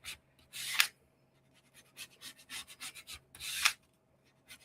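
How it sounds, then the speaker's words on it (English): Paper strips for paper weaving are burnished down with firm rubbing strokes, giving close, scratchy swishes in irregular bursts, two of them louder and longer. "I'm just burnishing this down really well"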